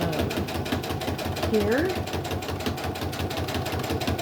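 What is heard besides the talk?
sewing machine stitching a quarter inch seam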